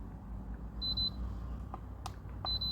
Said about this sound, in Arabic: تدوسي مره طويله هيديلك تتي بيب بيب، يعني هيديلك انذارين